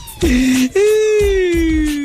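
A voice imitates a police siren, with a wailing tone that rises, then slides slowly downward in a sustained, close whoop.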